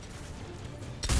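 Gunfire in the video game Mass Effect 3: a short, loud broadband burst of shots arrives near the end after a stretch of low background, with no talk.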